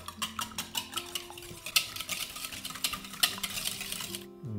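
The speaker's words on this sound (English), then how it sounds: "And whisk them together." Ingredients whisked together in a bright green bowl, a quick, close train of rhythmic clinking and scraping strokes that stops abruptly at the end, with no voices.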